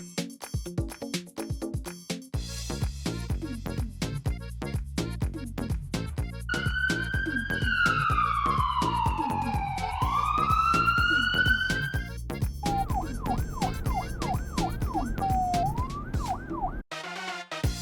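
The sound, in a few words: ambulance siren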